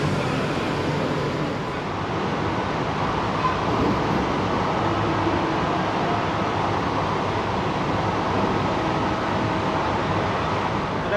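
An air-conditioned Sealdah–Krishnanagar local train pulls out of Barrackpore station, a steady, even rumble of running gear and cabin hum heard from inside the carriage.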